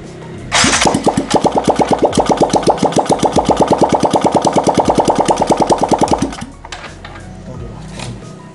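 A used 2015 Yamaha Jupiter Z1 motorcycle engine with a fault runs close and loud in a rapid, even pulsing beat for several seconds. It then cuts off abruptly, leaving quieter background noise.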